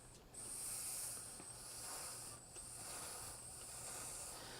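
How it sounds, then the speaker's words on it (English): A steam iron hisses steadily onto crochet fabric for a shawl, a close, continuous airy rush with brief dips and renewed bursts, no talking. "I am just applying the steam to the fabric"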